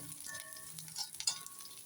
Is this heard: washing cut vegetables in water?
no